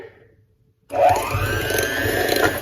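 An electric hand mixer starts abruptly after near silence and whirs steadily close by, beating a chocolate chip dessert dip with rum and vanilla bean; a constant motor hum with a faintly rising pitch, no talking.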